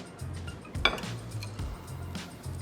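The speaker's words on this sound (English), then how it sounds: "So I'm going to be mixing this batter right here." Chicken batter mixed in a bowl, soft scraping and a few light clinks of utensil against the bowl, with one sharper clink, quiet and close.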